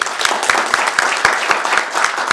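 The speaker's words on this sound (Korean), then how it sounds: "박수 환영해 주십시오." Audience applause at a Korean New Year policy debate forum, loud dense clapping with sharp regular individual claps standing out, close and continuous for a couple of seconds.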